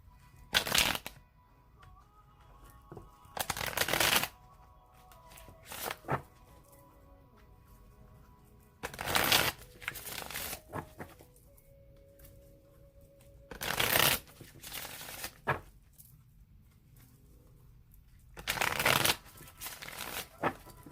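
A tarot card deck being shuffled in repeated bursts, each a crisp riffling flutter lasting a second or so, separated by quiet pauses with faint background hum; close and fairly quiet, no voices.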